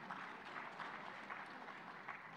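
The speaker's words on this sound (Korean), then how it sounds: "여러분 뜨거운 박수로 환영해 주시면 고맙겠습니다." Audience applause welcoming a guest at a Democratic United Party presidential primary event in Gangwon, a steady, fairly distant patter of many hands clapping without a break.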